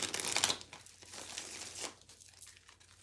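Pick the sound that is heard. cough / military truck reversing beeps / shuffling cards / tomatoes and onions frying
shuffling cards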